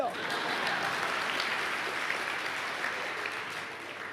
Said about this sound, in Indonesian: ya tepuk tangan yuk